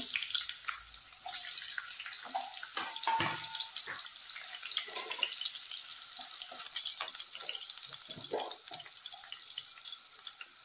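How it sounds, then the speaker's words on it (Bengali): Potato pieces frying in hot oil for a paneer, peas and cauliflower curry, giving a steady close hiss and crackle with scattered pops and faint clinks throughout. "প্রথমে আমি আলুগুলোকে হালকা লাল করে ভেজে নেব"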